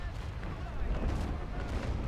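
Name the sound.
ship cannon fire in the video game Naval Action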